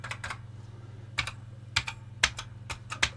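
Rapid, uneven key presses on a Dragon 32 home computer keyboard, a run of sharp clicks in quick bursts, close and clear with no talking.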